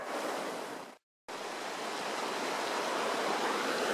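Water rushes steadily through a gold prospecting sluice outdoors, a dense, close hiss with one abrupt cut to silence early on before the flow resumes unchanged.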